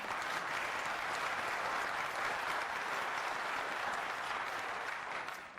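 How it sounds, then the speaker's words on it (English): An audience at a drought town hall meeting applauds steadily in answer to a question put to the room, a dense, even wash of clapping that holds for several seconds before easing slightly at the end. "Those who believe no, please applaud."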